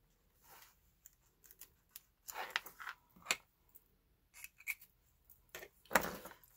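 Scissors snip through a strip of strong tape while converting a Moterm ring planner into a traveler's notebook: sparse, quiet close cuts and rustles in small bursts with pauses, slightly louder snips near the end.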